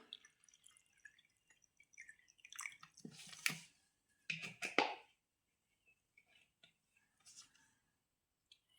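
Water is poured into a container while making homemade water candles, a few soft splashing bursts followed by faint scattered drips in a quiet room.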